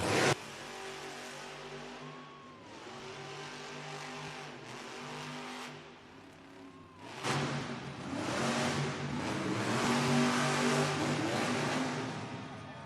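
Monster trucks roar around an indoor arena at a Monster Jam event in Pensacola, Florida. Loud engine revs swell and drop in repeated surges, echoing through the venue, and the sound grows fuller and more intense in the second half.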